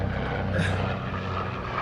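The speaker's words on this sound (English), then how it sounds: "Aeroplane." A steady engine drone of an aeroplane passing overhead fills the air, with faint voices in the background.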